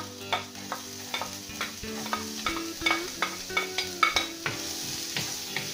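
Onion frying in a pan for a vegetable lasagne, a steady soft sizzle with repeated close scraping stirs at a quick, uneven rhythm.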